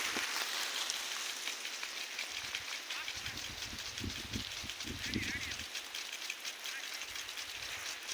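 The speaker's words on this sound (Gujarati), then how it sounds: "જો આ ફુવારા અમારા બધે ચાલુ કરી દીધા છે।" Garden sprinklers spraying water across plants like rainfall, a steady hiss of falling drops with a person talking over it midway.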